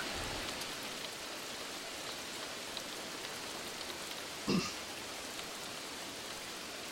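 Steady rain in the video game Arma 3 falls and patters on surfaces in a constant hiss, with one brief louder sound partway through.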